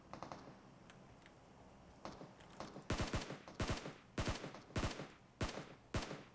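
Gunfire in the mobile shooter PUBG Mobile, a string of sharp single shots and short bursts. The shots start faint and scattered, then come loud and close at a steady, spaced rhythm, with no one talking.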